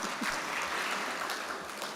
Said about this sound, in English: And now you applaud.